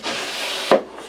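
A wooden drawer slides into a Harbor Freight Windsor Design workbench during assembly, giving a close, continuous scraping rub that ends in a single soft knock as it seats.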